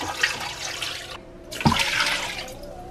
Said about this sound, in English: Can I pour it in there? Chicken broth.